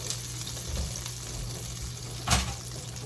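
Oysters frying in hot oil, a continuous crackling sizzle at steady loudness with a brief louder burst near the end, no voices.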